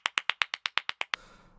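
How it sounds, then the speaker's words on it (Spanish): Ten quick, sharp hand claps come in an even rhythm, fairly close and crisp. A soft room tail follows after the last clap. "Hay que aplaudirlos, hay que premiarlos como es debido."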